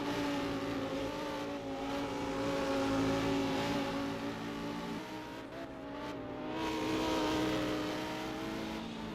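Lamborghini race cars, including car 54, jostle for position on a racing circuit during a sports car feature race, their engines a loud, sustained roar that swells and fades slightly as the cars pass.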